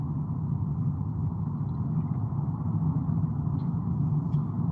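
Road traffic of cars and motorcycles hums steadily through the scene, a low, even rumble of engines at moderate distance with no clear pass-bys and no voices.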